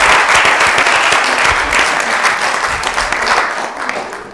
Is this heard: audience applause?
yes